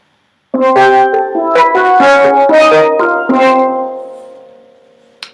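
Ringing steel pan notes in fifths struck one after another in a steady sequence, bright and resonant, the last note fading out before a brief tap.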